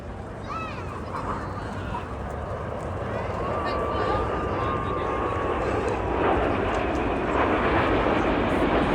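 Red Arrows jets flying an air display over a seaside regatta, a broad roaring engine rumble that swells steadily louder, heard beneath a commentator's continuous talk.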